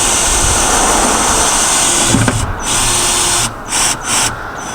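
A power drill drives self-tapping screws into the body of a van while fitting a solar panel, loud continuous whirring broken by a few brief pauses and stops.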